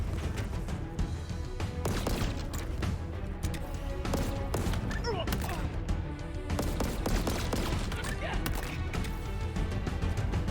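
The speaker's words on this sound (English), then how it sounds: "after each shot, there's a burst of shock damage" Upgraded Disruptor fire in Halo Infinite, with rapid repeated sharp shots followed by crackling shock bursts amid a busy battle soundscape of overlapping impacts and explosions, loud and continuous.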